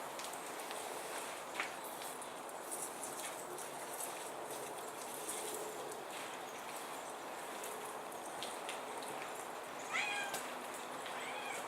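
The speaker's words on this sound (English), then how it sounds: "my cat's running around meowing." A cat meows a few times at a distance, faint and intermittent, over a steady background hiss and some light shuffling.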